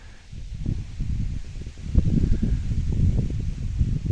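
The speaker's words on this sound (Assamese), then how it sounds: "কিমান ধুনীয়া বতাহ মাৰি আছে" Wind blows steadily across open fields as a low, buffeting rumble with a soft rustle on top. It swells slightly partway through, with no voices.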